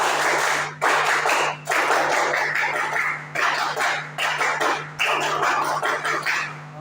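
A classroom of students claps out a rhythmic ice-breaking routine, loud patterned bursts of hand claps separated by short pauses, repeated several times.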